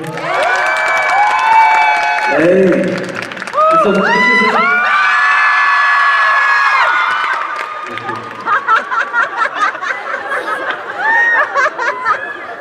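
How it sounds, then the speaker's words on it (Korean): A concert crowd at a Valentine show in Seongnam erupts in loud, high-pitched screaming and cheering with some clapping, swelling in waves and then breaking into choppier shouts; a voice briefly speaks. "박수 한번 크게 쳐주세요"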